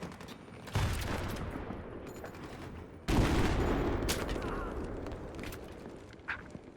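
Bursts of gunfire in the Battlefield 3 campaign, two heavy blasts roughly two seconds apart followed by rattling shots and scattered impacts, loud and close, with faint game ambience between.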